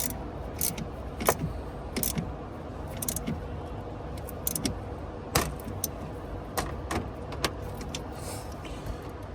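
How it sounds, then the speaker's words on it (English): Metallic clicks, taps and scrapes of tools on car battery terminals while a battery is reconnected, sharp isolated ticks scattered irregularly over a quiet background hum. "I'm gonna connect the battery back"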